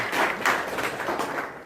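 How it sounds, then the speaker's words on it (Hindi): Applause from a crowd at a school Independence Day celebration, a short patter of clapping that rises and eases over under two seconds, moderately loud and steady. "तालियां बजाई जोरदार।"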